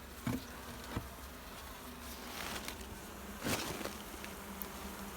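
Steady insect buzzing from many bees fills the background, with a few louder close passes and soft thumps standing out briefly.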